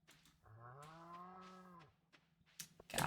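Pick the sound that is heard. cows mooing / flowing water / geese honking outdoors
cows mooing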